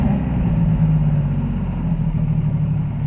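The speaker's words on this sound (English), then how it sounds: "there's a bit more load on the engine." A Yamaha XS750SE classic motorcycle idles with its lights switched on, a steady, close, low engine burble with an even throb and no talking.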